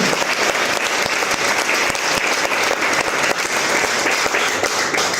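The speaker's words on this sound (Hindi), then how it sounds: "जोरदार ताली होनी चाहिए, धमाकेदार एक्साइटमेंट वाली ताली होनी चाहिए भाई" Dense, loud crowd applause fills the space continuously, a steady roar of many hands clapping with no pause.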